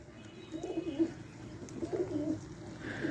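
Pigeons, including a black one, cooing nearby in a series of soft, low, rolling coos repeating every second or so over faint background noise.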